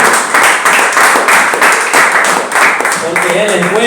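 A church congregation claps loudly and fairly rhythmically, a dense burst of many hands, and toward the end a voice speaks over the fading clapping.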